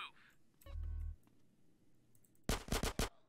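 A rapid burst of four or five loud gunshots in GTA San Andreas during a casino heist mission, preceded by a low synthetic thud and quieter clicks.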